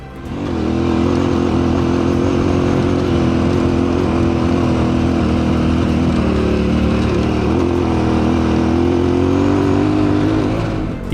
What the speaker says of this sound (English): The engines work harder